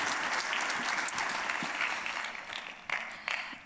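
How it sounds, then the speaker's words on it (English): An audience applauds panelists at an agricultural investment forum, a dense, steady clapping from a moderately sized crowd in a hall that thins and tapers off over a few seconds. "Let's please give them a round of applause."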